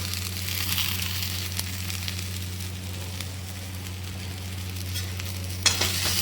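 Potatoes sizzling as they fry in a pan for jeera aloo, a continuous close hiss and crackle under a low steady hum, with a sharp clatter of a utensil near the end and no talking.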